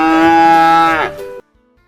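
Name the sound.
cow mooing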